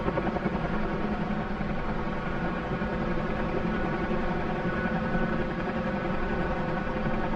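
A Huey helicopter in a flight video game cruises in forward flight at about 50 knots, its rotor and engine a steady, loud, dense drone with a constant blade chop throughout, no voices.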